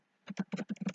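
A short burst of about six quick, close keystrokes on a computer keyboard, evenly spaced after a moment of quiet, with no voice present.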